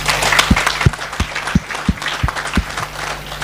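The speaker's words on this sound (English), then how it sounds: "So let's give them a big applause." Clapping for collaborators at a stakeholder conference, a modest room of hands beating loosely, with a regular thumping beat underneath, brief and tapering.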